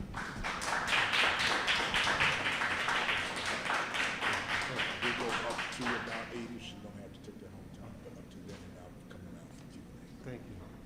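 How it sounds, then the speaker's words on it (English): Audience applause at a bookstore reading fills the room with dense, steady clapping for about six seconds, then fades to quiet room tone. "give a big Red Emma's round of applause for Rhone Fraser."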